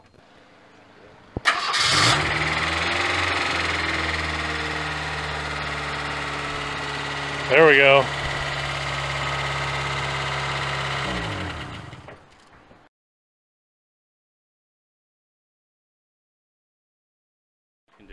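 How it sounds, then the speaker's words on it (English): A Ford 2.3 four-cylinder engine, just fitted with a new timing belt, cranks and fires abruptly, then settles into a steady, loud, close idle for about ten seconds before shutting off into silence; a voice speaks briefly. "So now we're gonna fire the engine after we get this all bolted down and make sure everything's good to go."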